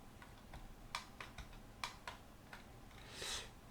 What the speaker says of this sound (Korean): 이걸 엔터 쳐서